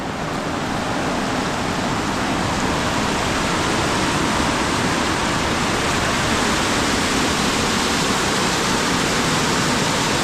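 Loud, steady roar of rising monsoon floodwater rushing in the Konkan countryside, filling the whole clip, dense and continuous with no breaks or voices.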